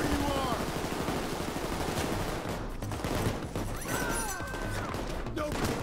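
Sustained heavy gunfire in the heist video game Payday 2, dense rapid automatic bursts that run nonstop and loud, with voices shouting beneath the shooting.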